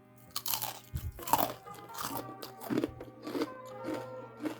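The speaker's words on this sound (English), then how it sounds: "These chicken gizzards. They're tender, crunchy, and they are so good." Crunchy deep-fried chicken gizzards being bitten and chewed close up, with a run of loud, crisp crunches in an uneven rhythm and no talking.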